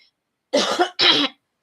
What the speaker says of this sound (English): I have the hiccups and need to cough